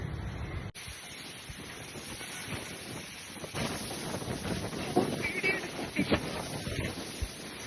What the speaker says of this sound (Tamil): நல்ல காற்று. இந்த காற்று ஒரு காற்று.